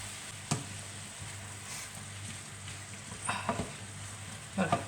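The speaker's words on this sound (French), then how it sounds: "Voilà, on mélange bien." A spoon stirs sugar into a hot pan of caramelizing food, giving a steady close sizzle with a few scraping, clacking strokes near the end.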